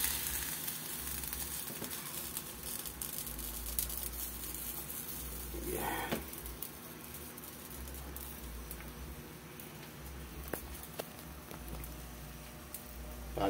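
A pot of broth comes to a boil for cooking hasa-hasa fish, giving a steady bubbling, sizzling hiss that runs throughout with a low hum beneath and a few soft clinks and stirs.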